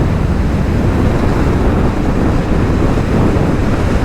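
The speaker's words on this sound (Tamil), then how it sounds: "பயங்கரமான காற்றடிக்குது." Strong wind buffets the microphone with a loud, constant low roar that rumbles on without break and drowns out any other sound.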